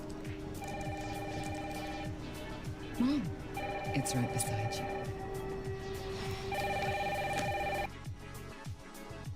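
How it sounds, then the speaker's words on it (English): A telephone rings in repeated electronic bursts with a steady rhythm, under rain and a person speaking over it. "Mom, phone."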